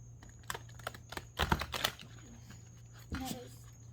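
Tarot cards are shuffled by hand in a few scattered, clattering bursts, close and quiet, with a steady low hum underneath and a brief voice near the start.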